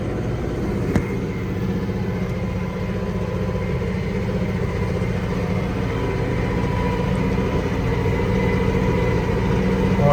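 A Basak tractor engine working under load while pulling an applicator and heavy discs in a field, a steady low rumbling drone that stays loud and close throughout with no talking.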